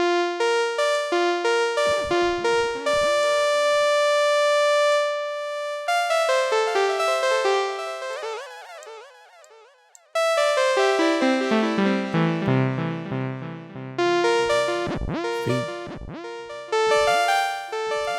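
A bright Baby Audio BA-1 synthesizer on iPad plays notes and sweeping tones, each line trailing off into repeating delay echoes, alone with no voices.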